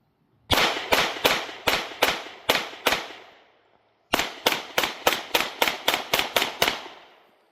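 A Sig Sauer P365 Macro pistol fires two strings of sharp, loud shots at a steady pace, seven then eleven, each crack trailing a short outdoor echo. A short pause separates the two strings.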